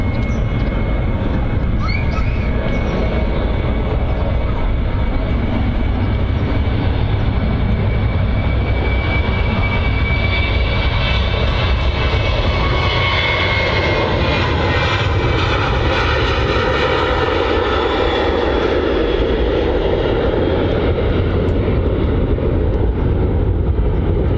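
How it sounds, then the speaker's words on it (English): A Boeing 737 jet departs Manchester Airport with its engines roaring loudly and steadily, a sustained broad roar with a shifting whine that lasts throughout. "Good old 737 on the way out."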